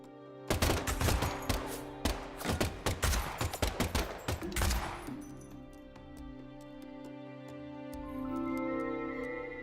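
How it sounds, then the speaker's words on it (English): Rapid gunfire rings out in the video game Deadly Premonition 2, a burst of loud sharp shots in quick succession that stops abruptly, leaving a sustained musical tone and faint ticking behind. "the last gunshot we heard sounded ominous"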